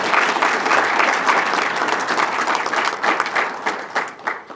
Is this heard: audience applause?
yes